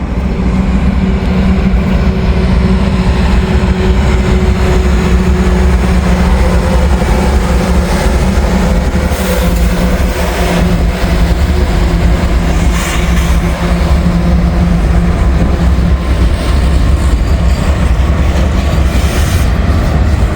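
A CSX freight train led by the Monon heritage unit locomotive rumbles past in a steady, loud, continuous roar of rolling cars and engine drone, with no voices.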